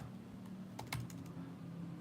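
A zip code typed on a computer keyboard: a quick cluster of about five soft, close keystroke clicks over a quiet room hum.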